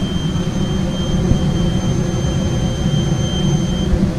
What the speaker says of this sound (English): The alarm you hear is another safety feature on most fume hoods.